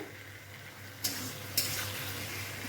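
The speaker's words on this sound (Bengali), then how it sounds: "এখন এটাকে মশলাটাকে সুন্দর করে কষিয়ে নিই" Spice paste for a small hilsa curry frying in oil, with a soft, steady sizzle and two brief scraping stirs standing out against the low hiss.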